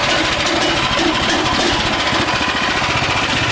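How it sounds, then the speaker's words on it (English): A homemade rat rod engine runs steadily and loud throughout, a rough continuous mechanical chug with rapid knocking pulses and no pauses. "So I'm gonna just run the engine and show how it works."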